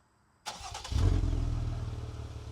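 A Jeep Wrangler's 3.6 liter V6 with dual exhaust cranks briefly after a short silence, then catches and settles into a loud, deep, steady idle rumble close by.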